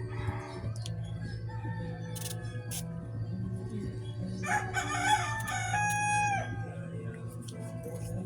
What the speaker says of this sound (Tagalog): Sensya na po kasi maraming chicken na ito.